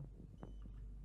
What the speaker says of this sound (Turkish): kalp atışı sesi.